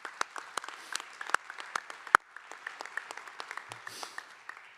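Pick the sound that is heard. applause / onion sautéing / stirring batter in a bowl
applause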